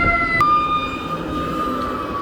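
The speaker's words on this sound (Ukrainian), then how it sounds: "Калгарі дуже часто можна почути пожежні сирени." A fire engine siren wails steadily in the distance in Calgary, Canada, a thin high tone held over the low rumble of road traffic.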